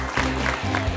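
Studio audience applauding on a Georgian comedy game show, a steady wash of clapping filling the whole short moment under a low musical hum.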